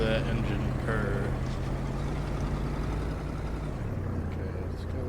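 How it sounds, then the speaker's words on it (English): A low, steady boat engine drone hums underneath, its pitch dropping slightly near the end, with a person speaking over it. "Listen to that engine purr."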